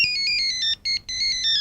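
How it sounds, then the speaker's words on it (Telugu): An electronic phone ringtone plays a bright repeating melodic pattern, loud and close, with two short pauses between phrases. "ఫోన్"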